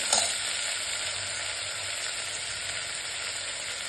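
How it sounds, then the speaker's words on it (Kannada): Washed, chopped potatoes and other vegetables for a vegetable pulao fry in oil with a loud, steady hiss that holds even throughout. A brief clink sounds at the start, and no one speaks. "ಇದು ಸ್ವಲ್ಪ ಚೆನ್ನಾಗಿ ಫ್ರೈ ಆಗಬೇಕು ಎಣ್ಣೆಯಲ್ಲಿ"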